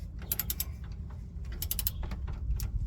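Brake parts being tightened with a hand ratchet, sounding as several quick bursts of close clicking separated by brief pauses.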